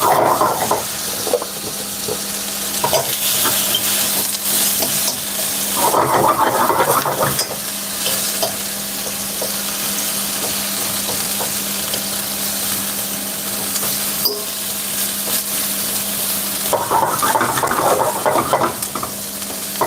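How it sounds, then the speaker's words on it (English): Apple pieces sizzling in butter in a pan that is swirled around, a loud, steady frying hiss with periodic swells of stronger crackling as the pan moves. "you move your pan around so the butter can circulate, that every apple receive a bit of the butter."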